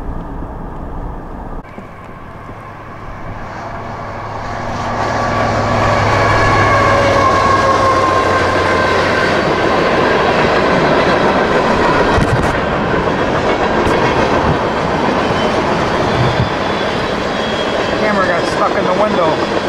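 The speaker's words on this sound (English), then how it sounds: "Sit up here and hopefully catch a few more trains." A CSX or CP freight train passing through falling snow, its rumble swelling after the opening seconds and holding loud and steady, with faint wheel clatter throughout.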